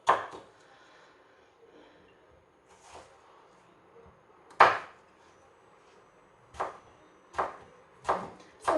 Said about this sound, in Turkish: Salatalığı da doğrayayım.